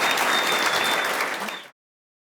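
Studio audience applauding a panel of three GAA pundits on a live sports talk show, dense steady clapping for under two seconds that cuts off abruptly.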